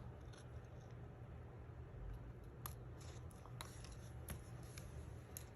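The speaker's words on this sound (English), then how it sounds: "So really quick, you can just snip this little fish out." Scissors snip a small paper fish shape out of card, several faint, sharp clicks spaced irregularly over a quiet background.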